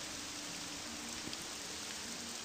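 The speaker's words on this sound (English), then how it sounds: "Oh, it's raining." Rain falling in the fantasy video game Morrowind, a soft, steady hiss of rainfall on surfaces, quiet and unbroken, with no voices over it.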